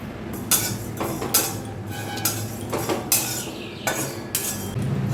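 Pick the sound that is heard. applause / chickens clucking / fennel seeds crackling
fennel seeds crackling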